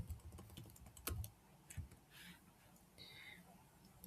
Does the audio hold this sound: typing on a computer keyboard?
yes